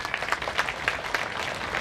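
Brief audience applause at a Vardhapan Diwas gathering, a short run of moderately loud, rhythmic clapping from a crowd of people.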